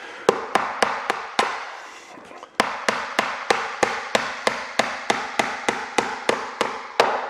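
Close, loud hammer blows nail Douglas fir wood cladding, a quick burst of strikes, a brief pause with faint rustling, then a long regular run of sharp taps with short ringing tails.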